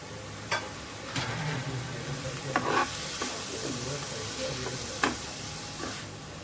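Tomato with mixed herbs and black pepper sautéing in a pan, a steady close sizzle with repeated sharp scrapes and taps of a spoon stirring against the metal, no talking.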